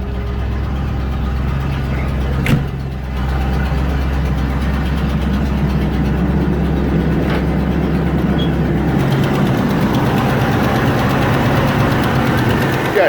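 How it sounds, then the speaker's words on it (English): Steady, loud idle of a 1994 Range Rover engine under an open bonnet, close up, a continuous rumble with a faint ticking of the tappets, one brief clunk early on, no talking. "So the tappets are a lot quieter."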